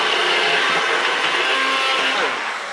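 A small electric blender once used for making baby food purées whirs loudly and steadily, blending an artichoke preparation with olive oil; the motor drone holds throughout and eases slightly at the end.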